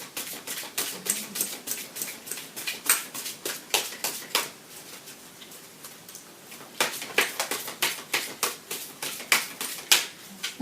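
Tarot cards are shuffled and cut up close, a quick run of crisp snapping and riffling clicks in bursts, pausing briefly before resuming.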